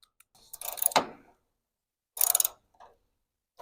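Hand ratchet working rusted 9/16 bolts loose from an old small-block engine: two short bursts of rapid clicking with a metallic scrape between them, close and clear with near silence around them.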